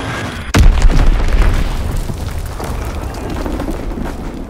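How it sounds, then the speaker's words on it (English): A Fritz X guided bomb from Call of Duty: WWII detonates in one heavy, deep boom, then a long rumbling roar that slowly settles into a steady low wash of battle noise. "Dropping Fritz X bomb."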